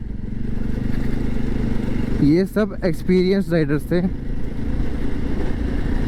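Motorcycles ride together near Jibhi, Himachal Pradesh, their steady mid-range engine drone running continuously close by while someone speaks over it partway through.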